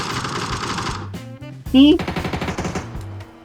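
Automatic gunfire in the video game PUBG rattles out in a rapid burst of sharp, evenly spaced shots amid other game sounds, with people talking over it.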